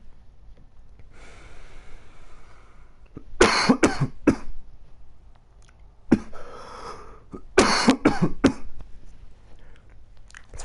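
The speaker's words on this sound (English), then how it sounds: "Three deep breaths, nine coughs." Deep breaths lead into two harsh bursts of repeated coughing, each several quick, loud hacks close up, separated by quieter breathing and throat noises, with no speech.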